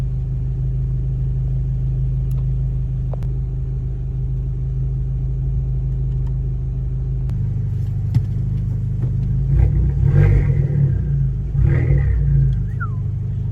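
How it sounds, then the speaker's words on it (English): An Abarth in sport mode rumbles at a loud, steady idle, then the engine note rises as it accelerates, with brief higher whistling surges from the turbo near the end. "It's that turbo whistle."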